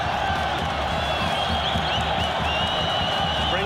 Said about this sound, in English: Brings the crowd to its feet in Tashkent.